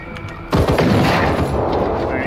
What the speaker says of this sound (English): How did that shot not take it out?